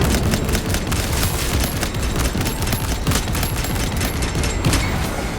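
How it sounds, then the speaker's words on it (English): Frag grenade detonations and battle noise in Warhammer 40k Space Marine 2, a dense, constant roar of explosions and rapid gunfire with no clear gaps, loud and close throughout. "Throwing frag grenade."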